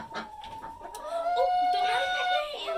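Chickens clucking and a rooster crowing nearby on a homestead, with short calls and a longer drawn-out crow, over faint background noise.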